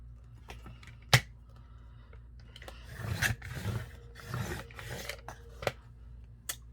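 A trading card's top edge is trimmed, giving soft rasping, scraping cutting strokes in short bursts along with a few sharp ticks and taps, close and quiet.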